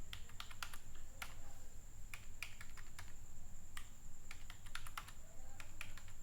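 SQL code is typed on a computer keyboard, with close, crisp key clicks in irregular clusters over a steady low hum.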